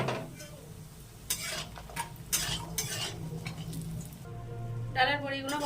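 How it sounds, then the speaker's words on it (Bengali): Lentil dumplings (dal bori) fry in hot oil for a Bengali shukto dish, giving a bubbling hiss broken by sharp scraping and stirring bursts from a utensil against the pan, close and fairly loud. "এবার ডালের বড়িগুলো ভেজে নেব।"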